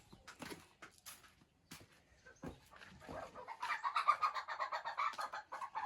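Clucking chicken loose inside a house, a run of rising, busy calls building toward the end and growing louder, with scattered household noises before it.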